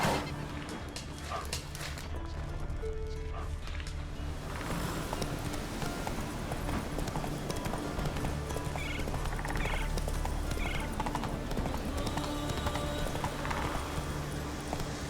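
Horse's hooves clip-clopping in The Witcher 3, a steady run of fairly close hoofbeats under ambient game sound, with a brief whinny-like call and faint background noises.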